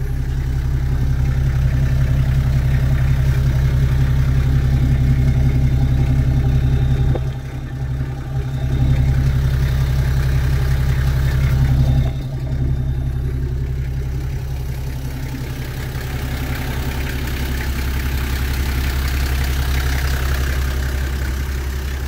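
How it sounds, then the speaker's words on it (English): A Toyota Land Cruiser diesel engine with a good exhaust idles steadily and close by for the whole stretch, a loud, even low rumble with a couple of brief dips and no talking. "just purring like a kitten. That's a great sounding diesel."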